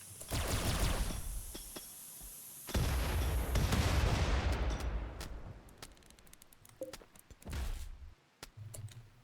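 Gunfire from an Imperial Guard squad in the RimWorld Grimworld mod: dense rattling bursts and booming shots that thin out into scattered single cracks and a few heavier blasts.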